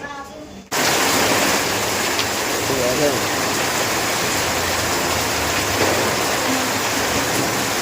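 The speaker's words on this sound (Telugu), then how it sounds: "ఇక్కడ వాన చూడండి ఒకసారి ఎంత పడుతుందో" Heavy rain pours steadily during a Diwali outing, heard from under a tree near a shop, a dense, continuous broadband hiss that starts abruptly and stays loud throughout.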